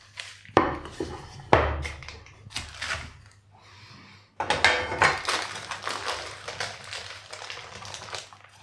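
A Christmas fruit cake is knocked out of its baking tin and flipped onto a plate, giving a few sharp metallic clunks and scraping clatter, with a quieter pause before a longer burst of rattling handling noise.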